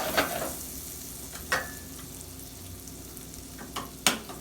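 Garlic and shrimp sizzle steadily in butter and olive oil in a pan, a close, continuous crackle with a few sharper spits and stirring clinks scattered through.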